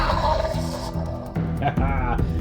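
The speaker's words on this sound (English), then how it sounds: "you push here for a cool roar" A Jurassic World T-Rex toy lets out a loud electronic roar when its sound button is pressed, growling and rasping for a couple of seconds close to the microphone.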